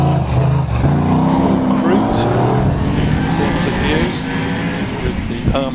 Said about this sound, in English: This runs a 3-litre Jaguar V6 engine. It sounds glorious.